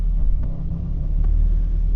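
An NCR86 car idling in gear on a workshop hoist after a new gearbox and clutch, giving a low, steady rumble close by with a faint rhythmic knock running through it.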